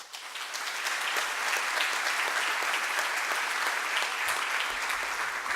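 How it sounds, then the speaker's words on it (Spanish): A conference audience applauds to welcome the opening speaker at a public governance programme's inaugural talk, steady dense clapping holding for several seconds with a roomy, even sound. "damos la bienvenida con un aplauso"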